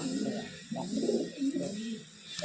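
Caged pigeons, including a red-eyed pair, coo in soft, repeated low phrases over a faint background hiss, with no talk.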